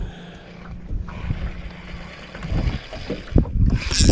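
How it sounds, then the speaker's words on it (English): Wind buffets the microphone on a fishing boat out crappie fishing, a steady low rumble with gusts that swell louder toward the end. "Man, if this wind would quit."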